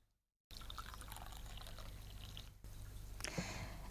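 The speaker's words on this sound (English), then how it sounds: "Pour in boiling water," Boiling water poured over loose herbal tea in a cup, a close, steady pouring stream that starts abruptly after a brief silence, briefly breaks, then continues with splashy trickling.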